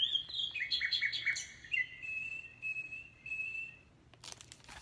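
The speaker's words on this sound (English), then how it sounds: "And here's a bird singing a good night song." A small bird sings a bright, chirping phrase from a button in a children's sound book, settling into a long thin whistle, followed by a short crinkle of paper.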